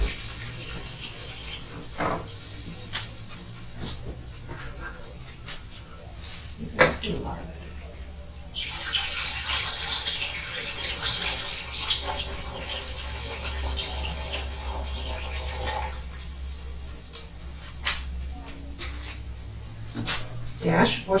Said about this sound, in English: now to this I'm going to add my 2 cans of beef broth